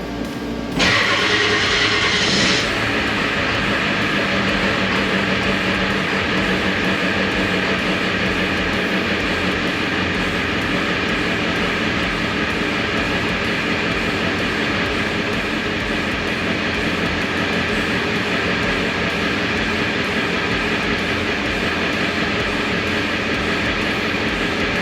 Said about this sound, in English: Let's see if we can do a cold start and see what happens here.